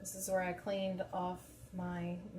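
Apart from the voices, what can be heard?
No everyday noise stands out behind the speech.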